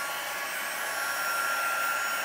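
A steady, loud blowing whir of a heat embossing gun on a card runs continuously and alone, a constant airy hiss with a faint high tonal whine.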